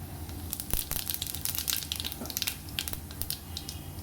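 Cumin seeds hit hot oil in a pan for a Gujarati toor dish, giving a soft, steady sizzle with scattered crackles and pops, fairly close and without talk.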